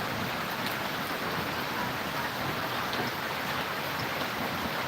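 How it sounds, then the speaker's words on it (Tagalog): Heavy rain pours steadily during a typhoon with strong monsoon winds, a dense, unbroken wash of noise that stays loud and even throughout, with no voices heard. "Lakas ng ulan ngayon."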